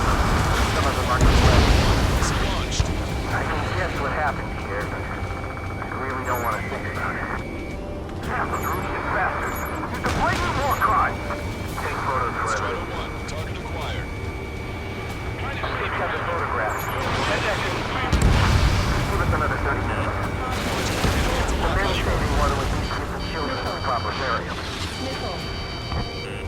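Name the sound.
gunfire and explosions in Ace Combat 7, from a video game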